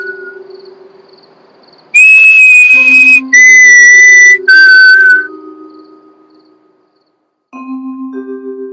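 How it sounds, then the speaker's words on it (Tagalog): Eerie sustained whistling outside a house in a horror story, several long, clear, piercing notes in a row separated by short gaps, with quieter, lower tones before and after. "Biglang matigilan si Margarita nang marinig ang nakakatakot at pamilyar na sipol na yun mula sa labas ng bahay."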